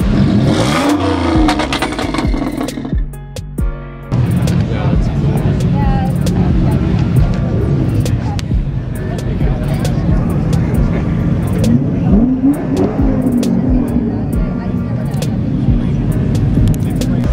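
A Lamborghini engine revs hard at a Houston Cars and Coffee meet, loud and close, with rising and falling surges, a brief dip, then sustained roaring under excited voices.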